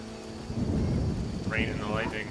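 Steady heavy rain with a low rumble of thunder rolling underneath in The Witcher video game, and a brief high whistling sound near the end; no talking.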